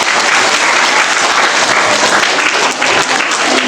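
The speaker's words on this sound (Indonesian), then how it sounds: "Tepuk tangan untuk semua siswa-siswa." Students clapping together at an Islamic study session on obligatory and voluntary prayer: dense, steady applause from a room full of people, close and loud for the full few seconds.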